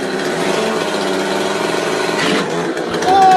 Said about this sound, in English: he's got the chainsaw, and I don't know what he's doing